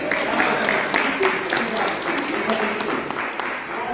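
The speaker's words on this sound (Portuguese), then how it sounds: "Chile, dá uma salva de palmas para Chile" Crowd applause in a church congregation during a sermon, steady dense clapping lasting the whole few seconds at moderate loudness, with voices mixed underneath.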